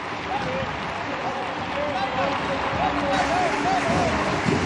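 At a Quilmes vs. Aldosivi Primera Nacional football match, a stadium crowd gives a broad, steady wash of applause for two substituted players, heard from a distance beneath a commentator talking continuously.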